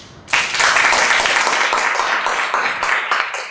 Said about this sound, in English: can you guys clap for yourself?